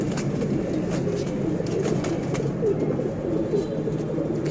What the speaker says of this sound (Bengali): এটা বাচ্চা কবুতরের ধাপড়ি, এগুলো সব বাচ্চা, এদেরকেও কিছু খাবার দিয়ে দিই।